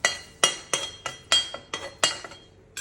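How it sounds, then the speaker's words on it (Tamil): Roasted white sesame seeds being moved from a pan onto a plate: a regular series of about eight bright metallic clinks and taps, close and distinct, with no speech. "அது ஒரு பிளேட்டில் மாற்ற போகிறேன்."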